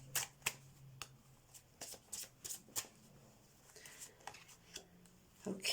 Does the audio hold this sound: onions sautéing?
no